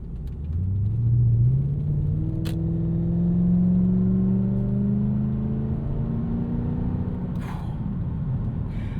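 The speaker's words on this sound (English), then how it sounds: "Even with this aftermarket exhaust, I mean, you really don't hear much." Engine of a 1998 Lexus GS 400 with an aftermarket exhaust, a low, smooth rumble that climbs steadily in pitch as it accelerates, fairly muted and continuous, with a brief click near the start and another near the end.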